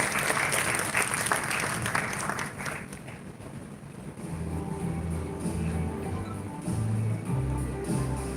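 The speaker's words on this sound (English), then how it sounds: "Ladies and gentlemen, a round of applause for our panelists, Mr. Vinod, Dr. Harani, and Dr. Arasios" An audience applauds for panelists at a health event, clapping loud for the first few seconds before giving way to a murmuring room, with a low hum and scattered voices.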